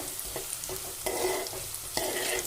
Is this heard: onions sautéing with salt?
yes